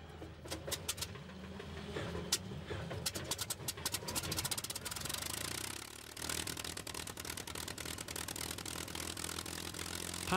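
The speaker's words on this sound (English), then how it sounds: "came the aeroplane that was to reverse the situation completely, the North American Mustang" A North American Mustang P-51B World War II fighter powered by a Rolls-Royce Merlin 61 engine, its loud steady engine drone rising and holding, mixed with other busy layered sounds.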